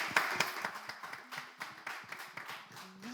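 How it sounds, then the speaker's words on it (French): Scattered claps from a small audience in a room during a French-language presentation, a few sharp individual hand claps at uneven spacing rather than a full ovation, fairly quiet and close. "Applaudissez, s'il vous plaît."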